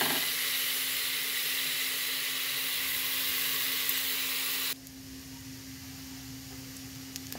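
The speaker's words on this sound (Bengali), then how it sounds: "চাউলটা সুন্দর করে ভেজে নিচ্ছি।" Rice for egg biryani fries in a pan with a soft, steady sizzling hiss over a faint hum, turning noticeably quieter partway through.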